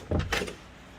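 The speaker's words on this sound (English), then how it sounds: "Let me open up the right door." Right door of a 1960 Chevy Bel Air being opened: a short metallic clunk and latch rattle, close and fairly quiet, over in about half a second.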